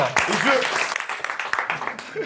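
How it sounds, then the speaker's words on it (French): A French audience at a Marseille event applauds itself after a countdown, brief scattered clapping mixed with voices and laughter, close and uneven. "on peut s'applaudir"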